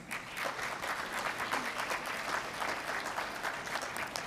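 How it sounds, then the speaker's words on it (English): An audience at a G20 Development Working Group session applauds its speakers, a steady, even round of clapping heard at moderate distance and fairly soft, with no talk over it. "So please give a big applause to all of us."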